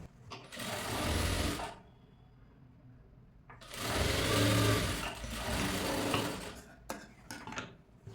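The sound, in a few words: sewing machine stitching a princess cut blouse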